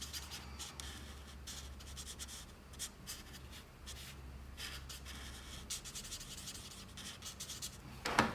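A marker scratches and rubs across paper in quick, uneven strokes as a cartoon drawing's beard is coloured in, close and fairly quiet, with brief pauses between bursts of strokes.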